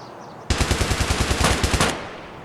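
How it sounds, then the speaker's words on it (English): Rapid automatic gunfire from Escape From Tarkov bursts out suddenly, a loud, close, evenly spaced stream of about a dozen shots lasting over a second before cutting off into a short echoing tail. "Somebody just got shotgunned."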